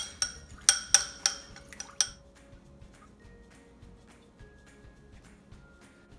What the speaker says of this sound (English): just keep beating this or whisking it for about another 2 minutes till it all gets creamy